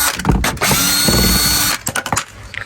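Power drill backing the number plate screws out of a car, a loud close whine that runs steadily for over a second, then sputters into short bursts and ratcheting stops.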